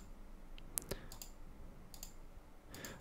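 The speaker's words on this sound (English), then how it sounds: "You can hold down Control on your keyboard and then left click." Computer mouse left clicks made while holding the Control key during Unreal Engine 4 landscape spline editing; a few sharp, isolated clicks spread across a quiet background, the clearest one near the start.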